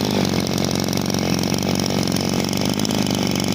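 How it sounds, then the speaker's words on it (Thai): A small lawn mower engine idles steadily nearby, a constant rough buzzing drone with no talking. "เครื่องยนต์สตาร์ทติดง่ายนะครับ"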